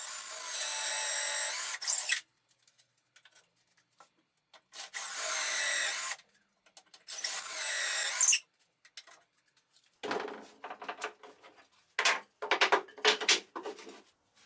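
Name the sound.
drilling dowel holes with a doweling jig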